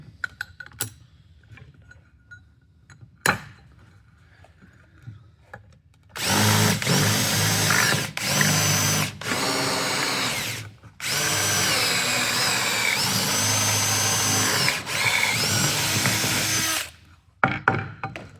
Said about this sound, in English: Next, we're gonna do the 3/16 bit.